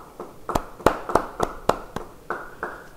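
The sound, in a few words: congregation applause in church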